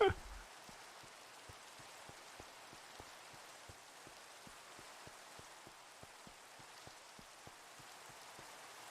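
Rain in a block-built video game makes a soft, steady hiss of falling drops, with faint regular ticks pulsing underneath at an even pace; no talk is heard.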